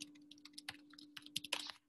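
Quick, irregular clicks of fingers typing on a computer keyboard during a Zoom call, faint and close, with a steady electrical hum underneath.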